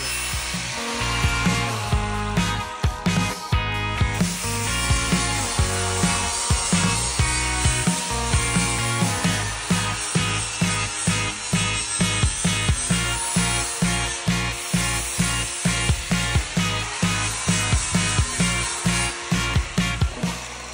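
Angle grinder grinding off welds on a metal frame, a loud continuous whining grind with rhythmic pulsing passes as the disc is worked along the steel, no voices.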